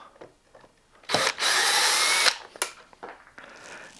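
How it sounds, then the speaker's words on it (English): A nearby power drill spins up for about a second, removing screws, then stops, with a few clicks and handling noises around it. "Gotta love a power drill."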